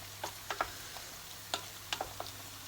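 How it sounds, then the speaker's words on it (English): A wooden spoon stirring a butternut squash pasta bake, soft scattered scrapes and light taps against the dish, quiet and close, with a low steady hum beneath. "So stir that through"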